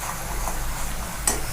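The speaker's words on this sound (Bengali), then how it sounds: "মশলাটা একটু ভাজা হবে" Spice masala fries in a pan for Bengali-style chana masala, a soft continuous sizzle with a faint scrape of stirring near the end.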